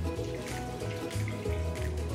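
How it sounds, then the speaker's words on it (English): Two cups of water are poured into a cooking pot on a stove during homemade chicken pot pie dog food prep, giving a steady splashing, gurgling stream for about two seconds. "we're gonna add in 2 cups of water"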